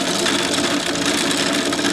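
Unlubricated gears in a newly built model locomotive turning for the first time, a steady dense mechanical whir and grind, loud and close, continuous without pauses or talk.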